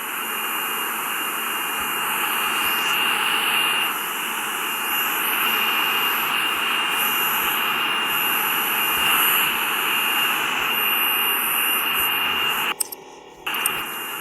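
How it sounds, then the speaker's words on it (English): Boeing 747 taking off in the SimplePlanes flight game: a steady, loud jet-engine roar with high whine holds for most of the stretch, then briefly breaks into choppy bursts near the end. "As you can see, perfect takeoff, very smooth takeoff."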